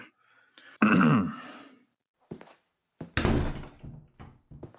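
A door handled as someone walks out, with a heavy thump and rattle near the start, then a second louder slam-like impact after a pause, plus a few softer knocks and shuffles in between.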